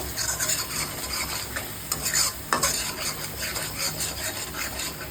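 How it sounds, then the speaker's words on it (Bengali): A spatula scrapes and stirs quickly and rhythmically through food frying in a pan with turmeric and coriander powder. The rubbing strokes are close and repeated over a soft sizzle, with one sharper knock in the middle. "খুব ভালো করে নেড়ে নেব।"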